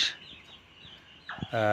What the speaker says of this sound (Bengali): আমি 500 ব্রয়লার মুরগির সেটে 13তম রমজানে বাচ্চা উঠাইছি। আজকে 2 দিন বয়স।